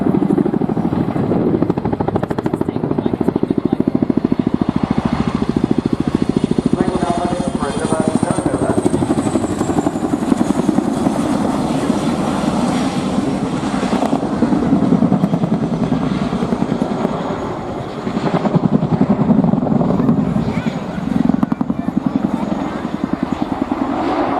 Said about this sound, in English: This aircraft is one of 60 Chinook helicopters based at RIAT